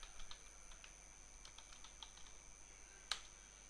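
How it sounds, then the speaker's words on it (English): Light, quiet typing on a computer keyboard as a new password is entered, soft scattered keystrokes with one sharper click near the end over faint background hiss. "Type the new password here."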